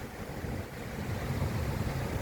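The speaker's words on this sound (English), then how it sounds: "so you can hear me better because of this wind" Strong seaside wind in stormy weather buffets the microphone with a steady, loud roar and low rumble, with no voices over it.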